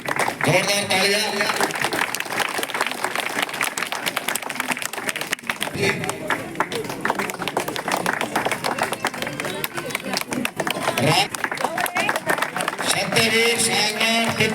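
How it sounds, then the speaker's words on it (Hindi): Loud, sustained clapping from a large gathering at a village felicitation program in Dhani Dhola, continuing dense and unbroken throughout with faint crowd chatter beneath. "जोरदार तालियां।"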